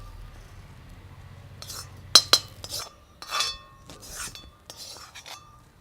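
Cooked tapioca being stirred in a bowl with a utensil, a few sharp metallic clinks and soft scraping knocks in an irregular rhythm, close and fairly quiet, with no talk.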